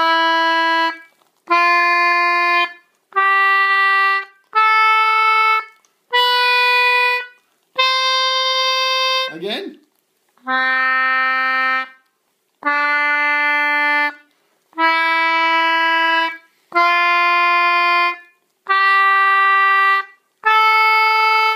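English concertina playing a scale, a dozen steady reedy notes, one about every two seconds and separated by short gaps, with one note bending near the middle, close and alone without talk.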